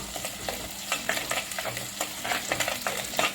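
Onions and green chilli are sautéed in a clay pot, a continuous sizzle broken by a quick series of spatula scrapes and knocks against the pot.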